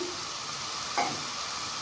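Spinach stirred into hot frying spices for curry palak, a steady sizzle of oil throughout with a brief louder scrape of stirring midway, close and alone without talk.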